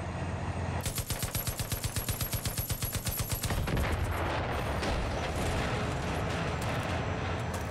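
Vehicle-mounted cannon fire in the video game Far Cry 5: a rapid, evenly spaced burst of loud automatic shots for about three seconds, followed by a dense roar of continued gunfire and explosions.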